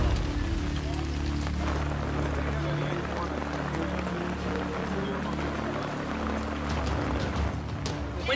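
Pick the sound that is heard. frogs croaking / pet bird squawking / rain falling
rain falling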